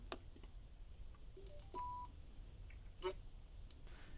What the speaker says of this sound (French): On allume l'intercom.